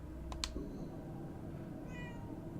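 A cat in the video game Murdered: Soul Suspect gives a couple of short, soft meows over a low ambient hum, fairly faint and alone without talk.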